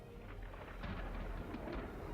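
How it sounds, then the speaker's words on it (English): A low, faint rumble of thunder with a rain-like hiss rolls on throughout, the effect of a lightning spell in the video game Infinity Strash: Dragon Quest The Adventure of Dai. "Call down the lightning!"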